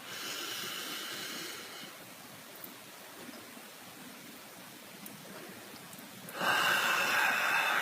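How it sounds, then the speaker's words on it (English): A long, deep inhale during a guided morning meditation sounds as a soft, airy rush of breath. A quieter stretch follows, and then a louder burst of breath noise near the end. "Breathing in."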